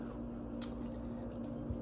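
Chewing on crunchy Seapak frozen breaded seafood snacks baked in an oven, with soft close-up squishy and crunching mouth sounds over a steady low background hum, no talking.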